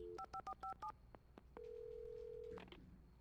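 A telephone in the Alan Wake video game is dialed: a quick run of about six keypad tones, a few clicks, then a steady ringing tone for about a second before it cuts off, quiet and close.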